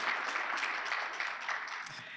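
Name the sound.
audience applause at a school breakfast event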